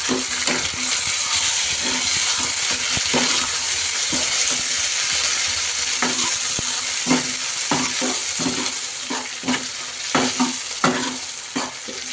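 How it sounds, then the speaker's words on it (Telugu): Chopped tomatoes stirred into frying onions in a pan, with a steady bright sizzle throughout and repeated scraping, clacking strokes of a spoon against the pan at an irregular rhythm, close and loud, no talking. "టమాటా చిన్న టమాటా ముక్కలు కట్ చేసుకొని వేసుకొని కలుపుకుందాం"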